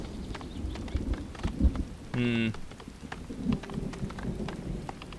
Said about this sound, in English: And it's started to rain.